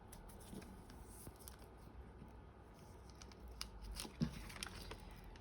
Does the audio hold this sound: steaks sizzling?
no